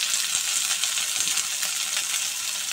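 Radish pieces, young and cut into small long strips, sizzle steadily in a hot frying pan for a vegetarian winter spinach dish, a dense constant hiss without talk.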